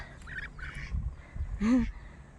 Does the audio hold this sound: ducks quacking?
yes